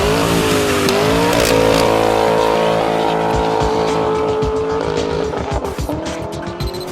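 A 2019 Nissan Titan with a Flowmaster 50 true dual exhaust and Quadzilla black tips revs loudly up close, a deep rising engine roar that climbs, holds, then breaks into choppy pulsing throttle blips.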